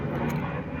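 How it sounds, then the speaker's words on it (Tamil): An airplane flying overhead gives a steady, continuous low engine rumble with a broad roar throughout. No voices are heard. "சாரி கொஞ்சம் ஃப்ளைட்டோட சத்தம் கேட்கும்"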